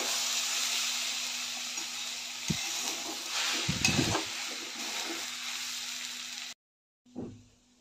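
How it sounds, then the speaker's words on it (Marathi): Rinsed barnyard millet (vari) sizzling in ghee in a pan with potatoes, peanuts and chilli, a steady soft hiss with occasional stirring scrapes, ending abruptly. "धुवून घेतलेले वरी यामध्ये घालूया। वरी पण 5 मिनिटं ह्यामध्येच भाजून घेऊया चांगलं, म्हणजे आपला पुलाव चांगला मोकळा होतो।"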